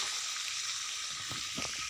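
Tomatoes with salt sauté in a pan, giving a soft, even sizzle with a couple of light stirring knocks near the end, fairly quiet and without talk.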